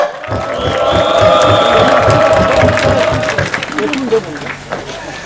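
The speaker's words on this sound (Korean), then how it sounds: "우리 다같이 박수로 함께한 동지들 환영합시다" Rally crowd at a protest gathering in Jecheon claps and cheers to welcome fellow union members, a swelling mass of applause and voices with a drawn-out shout over it, thinning toward the end.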